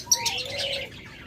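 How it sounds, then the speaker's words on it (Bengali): Budgerigars in a bird market chirp in a quick bright flurry of high twittering notes lasting a moment, close and fairly loud. "আমাদের কাছে অসংখ্য পরিমাণ বাজরিগার পাখি রয়েছে"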